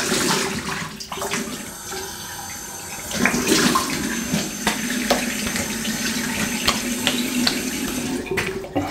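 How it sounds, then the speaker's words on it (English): Steady running water from a tap rinsing after a shave, a continuous close splashing rush with slight shifts in intensity as hands move under the stream, no talk. "Right, let's have a quick rinse."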